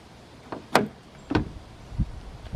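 Door of an abandoned, moss-covered Mercedes 300CD shifting with three or four short, dull clunks and creaks spaced across a couple of seconds, close by with no talking.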